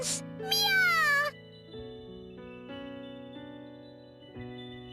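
In the video game Bravely Second, a short, high cat meow over sustained music is followed by a longer, wavering cry; then only the music continues.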